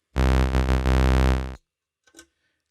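Oscillator 2 of a Pittsburgh Modular Lifeforms SV-1 Blackbox synth plays one bright, raspy saw-wave note, loud and sustained for about a second and a half with slight wobbles, then cuts off, followed by a faint brief noise.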